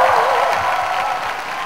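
A concert crowd at a show in Seoul applauds and cheers, a loud, dense wash of clapping and crowd noise that holds steady and eases off slightly.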